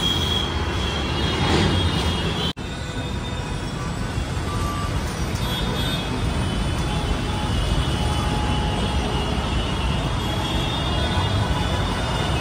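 Pune metro train running, a steady loud broadband rumble with faint wheel squeal throughout, heard from close by with a brief dropout early on.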